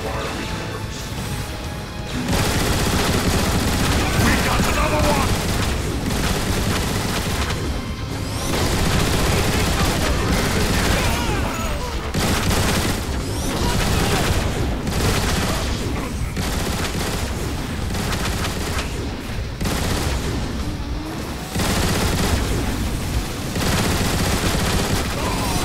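Heavy gunfire in the Transformers: War for Cybertron video game, dense bursts of shots and crashing impacts rolling almost continuously, loud and close, with brief lulls between volleys.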